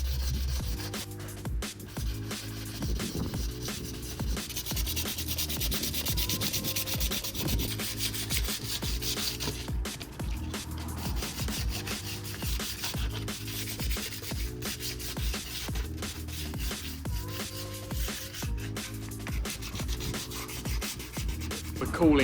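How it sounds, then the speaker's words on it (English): Body filler on a crashed Skoda Fabia vRS is sanded down for paint, giving a steady, close rubbing and scraping that runs continuously for over twenty seconds with no talking. "So we're happy enough to start sanding it down,"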